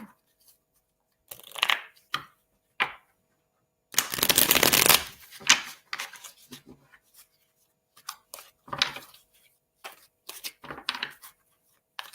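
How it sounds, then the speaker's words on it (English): Tarot cards are shuffled in short close bursts, including one longer riffle, with a few soft slaps and pauses between them. No one talks. "we're going to pull some tarot cards for you"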